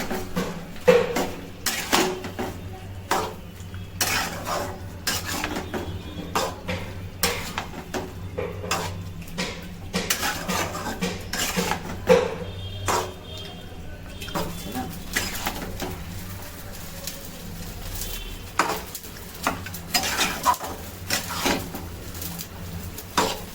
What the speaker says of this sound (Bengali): মটনটা এখন একটু কষে নেওয়া হচ্ছে।